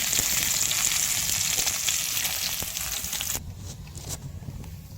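Fish fries lightly in a pan, giving a steady, close sizzle with fine crackling that softens and thins toward the end, with no talking over it.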